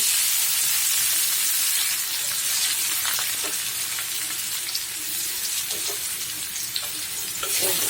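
Onions hiss and crackle in hot oil for koi fish bhuna, a loud, continuous close-up sizzle with scattered pops and a few stirring scrapes.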